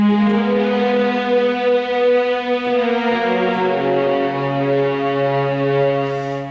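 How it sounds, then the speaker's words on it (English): A synthesized violin-type string tone from a Roland Fantom G plays a slow, sustained melodic line of the Terminator 2 theme, gliding between held notes, bright and prominent with nothing else heard. "on track number 1 I picked a violin type of string sound"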